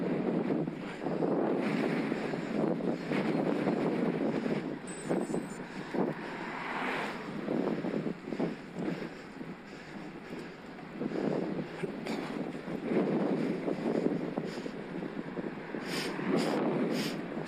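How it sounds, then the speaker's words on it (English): A headwind on an evening road bike ride on a Scott Addict RC eRide buffets the microphone with a gusty, rushing roar that swells and fades in uneven waves, with no talk. "Oh great, straight into a headwind."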